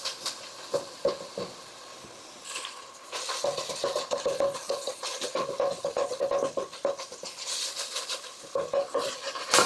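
Frozen tomato paste cooks in a pan for a spaghetti meat sauce, a soft sizzle broken up by repeated scraping and stirring of a utensil against the pan, close and moderately loud, with no talking.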